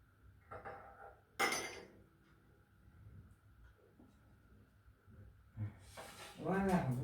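A metal spoon clinks against a jar or cup while scooping honey for bay leaf tea, with a sharp scrape near the start and a louder clatter toward the end, set among faint background voices.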